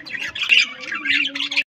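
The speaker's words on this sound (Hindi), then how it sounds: "उसके अलावा यहाँ पे कॉकटेल है, कॉकटेल बोल रहे हैं।" Cockatiels on a bird farm squawk close up in a short, harsh run of shrill calls, loud and overlapping.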